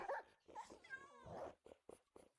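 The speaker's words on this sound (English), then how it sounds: "Sounds like I live in a kennel. There's so many dogs." Several dogs bark, yip and whimper close by in a room, in short overlapping bursts that trail off into a few separate yaps.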